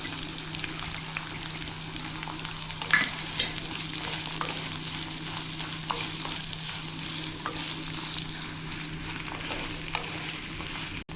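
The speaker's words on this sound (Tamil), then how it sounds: "வெங்காயமும் பூண்டும் நல்லா வதங்கணும்" Steady sizzling of onion and garlic frying in a pan, with occasional soft stirring scrapes and pops, close and continuous, no talking.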